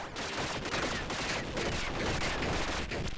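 Bombs going off in the Tiny Rogues video game: a dense, continuous barrage of loud overlapping blasts and crackling bursts with no pauses, filling the whole stretch.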